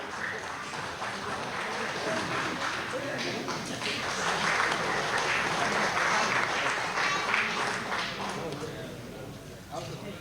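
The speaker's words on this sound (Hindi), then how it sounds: "पुरजोर तालियों" Audience applause at an Eid-e-Milad gathering held by Solapur railway employees, a sustained wash of clapping from a crowd that swells midway and then tapers, with voices mixed in.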